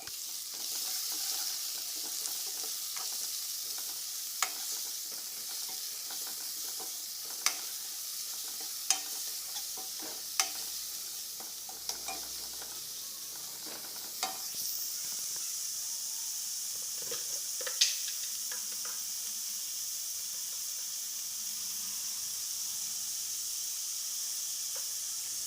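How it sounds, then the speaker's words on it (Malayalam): Chopped onions fry in oil for a soybean masala, giving a steady, even sizzle with occasional sharp clicks as a spoon stirs and scrapes the pan, heard alone and up close. "അപ്പോൾ ഉള്ളിയും കൂടി ഒന്ന് ഫ്രൈ ആയിട്ട് വരട്ടെ കേട്ടോ."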